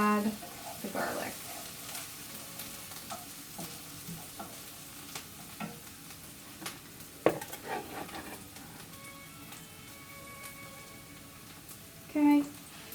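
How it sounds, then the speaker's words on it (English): Onions sauté in a pan, a soft continuous sizzle under scraping and stirring sounds, with a few sharp utensil clinks and a louder clatter near the end. "Let's give our onions another quick mix"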